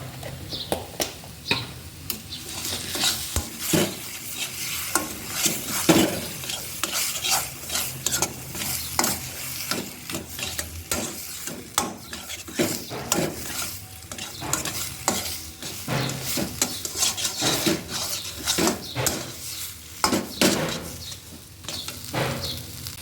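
Taro leaf greens stirred and frying in a pan with garam masala, a steady sizzle broken by repeated scraping strokes of a spatula, close and fairly loud, with no talking.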